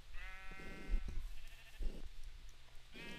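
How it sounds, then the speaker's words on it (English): Minecraft sheep bleating in a video game, several wavering bleats repeating with short pauses, fairly loud and clear over faint game background. "Sheep! Hey, sheep! How's it going?"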